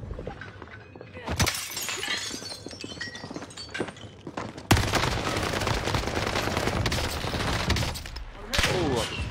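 Gunfire from the War of the Gods video game rattles in dense, loud bursts and sharp repeated shots that continue steadily after a brief gap, with a player talking over it.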